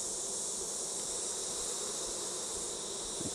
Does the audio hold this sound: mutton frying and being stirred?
no